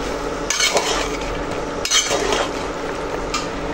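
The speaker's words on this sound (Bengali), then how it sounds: "এখন এই যে লাড়া দিয়ে দিব" A spoon stirs a curry of flat beans, potato and vegetable stems in a pot, with a few scraping strokes and clinks over a soft steady sizzle.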